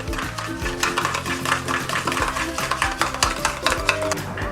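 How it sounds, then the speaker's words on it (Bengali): Sour yogurt mixed with a little sugar is beaten with a utensil in a bowl, giving a steady run of rapid scraping, tapping strokes at close range over faint background music, with no talk. "আর এই যে টক দই নিয়েছি 2 চামচ মতো, এর মধ্যে সামান্য চিনি দিয়ে নিয়েছি আমি। এবার এটা ভালো করে ফেটিয়ে নেব।"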